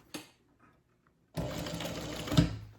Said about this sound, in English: We want to sew through this seam, so leave it pointing out.